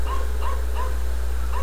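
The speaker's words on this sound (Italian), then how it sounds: "di là da qualche parte dovrebbero esserci i cani anche" Several dogs in the Farming Simulator 2013 video game yip and bark in a quick repeating series of short, mid-loud calls over a constant low hum, with no talking.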